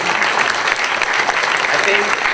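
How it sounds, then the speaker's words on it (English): A room of community musicians at a panel discussion applauds Lavender, a thick, steady wash of clapping from a nearby crowd, with a voice faintly mixed in. "can we have an applause for Lavender for me?"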